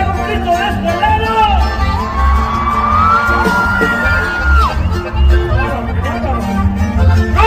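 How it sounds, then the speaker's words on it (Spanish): A concert crowd at a norteño music show in San Luis Potosí shouts, whoops and whistles loudly and steadily, with sharp whistles rising above the dense roar. "que se haga un grito de este lado"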